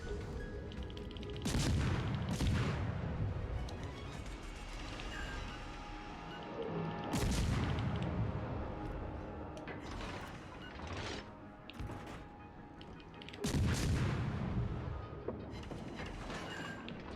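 Naval gunfire and explosions in World of Warships Legends: loud, booming salvos recur every few seconds, each followed by a rumbling tail, over a continuous mechanical drone of ship engines.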